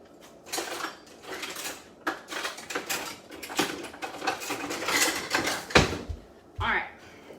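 A spoon stirs chocolate mug cake batter made with coconut flour and monk fruit sweetener, giving close, irregular scraping and clinking taps against the mug that come in bursts and grow busier toward the end.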